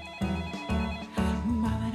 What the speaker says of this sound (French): son téléphone sonne.